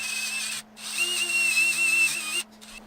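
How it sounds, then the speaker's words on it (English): A power drill with a wire brush whirs and scrubs old gasket material off a Datsun 280Z part in two long, steady runs with a short pause between, a high-pitched whine riding over the grinding noise. "Just used the drill with a wire brush attached to it"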